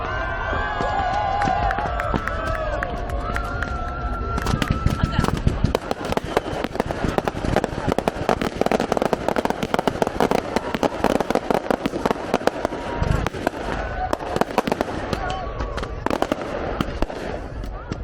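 Dense crackling bursts and sharp bangs from fireworks at a Christmas festival in New Orleans go off continuously, with a crowd cheering and calling out in the background.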